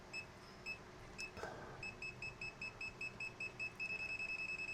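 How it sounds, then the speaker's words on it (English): A cheap multimeter's non-contact voltage tester beeps, a thin high-pitched series of pulses that starts sparse and irregular, then quickens into a rapid steady run of beeps, close and fairly quiet. "So you get quite a loud beep."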